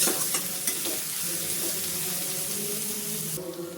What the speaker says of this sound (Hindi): प्याज को अच्छे से हम भून लेंगे मीडियम फ्लेम पे।